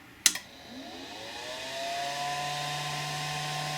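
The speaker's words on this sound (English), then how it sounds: "You can hear the fans." A Flashforge Dreamer 3D printer powers up with a sharp click, then its cooling fans spin up into a steady, close whirring hum with a rising tone that settles into a constant drone.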